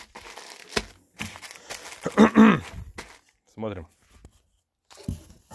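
An AliExpress parcel is unpacked in a village, its plastic packaging crinkling and rustling in several short, close bursts between pauses, with someone speaking briefly.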